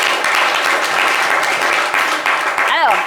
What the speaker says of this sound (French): On va l'applaudir sur le plateau